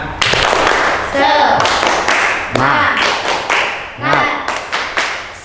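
A primary classroom claps a quick rhythmic 'tepuk semangat' pattern during an Islamic education lesson. Sharp, close claps fall in short bursts, and voices chant loudly between the clapping.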